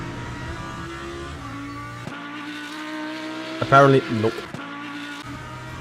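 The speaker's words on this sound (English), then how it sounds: "I like the sound of the Lambo." Lamborghini race car engine in Le Mans Ultimate, a steady droning hum that shifts pitch as the car changes gear, a brief tire squeal in the middle, and someone speaking briefly over it.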